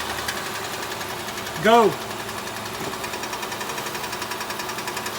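A 2013 Nissan Sentra with a failing CVT transmission at about 112,000 miles gives off a rapid, steady mechanical ticking over the engine hum, and a voice briefly shouts once partway through.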